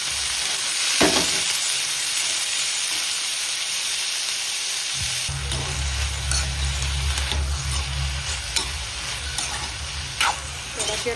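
Ivy gourd frying in hot oil, a loud continuous sizzle and hiss as the pieces are stirred, with a low rumble joining halfway and occasional scraping knocks from the spoon.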